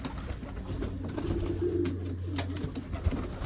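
Tumbler pigeons coo in a low, repeated murmur, close by over a faint background of outdoor noise.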